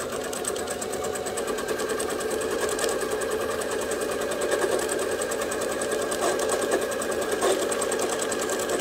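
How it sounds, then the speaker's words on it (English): A domestic sewing machine stitching free-motion quilting in small circles runs in a steady, continuous mechanical whir with rapid needle chatter, close and fairly even in level throughout, with no voices. "Start with your needle down, and you're gonna sew those little circles."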